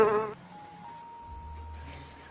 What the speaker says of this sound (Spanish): ¡Aplasta! ¡La mosca!